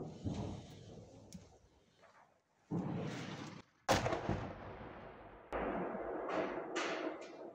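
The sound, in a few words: sniper gunfire aimed at soldiers in Bakhmut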